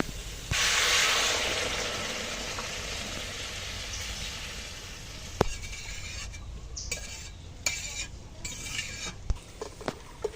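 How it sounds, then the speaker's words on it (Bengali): Hot water is poured into a pan of frying soybean and potato curry, a brief burst of rushing hiss that settles into quieter simmering, followed by several sharp clinks and knocks of a utensil against the pan. "আমি এখন আগে থেকে গরম জল দিয়ে দেবো।"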